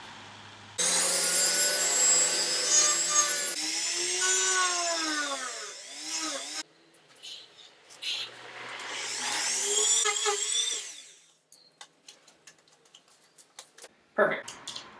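A handheld rotary tool cuts small notches into plastic pieces, a loud high-pitched motor whine that rises and falls in pitch through several cutting bursts, then fades to quiet with a brief final burst near the end.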